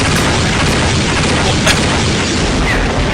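Liquid Snake's Hind D helicopter blows up in Metal Gear Solid, a loud, sustained rumbling boom that fills the whole stretch with one sharper burst partway through.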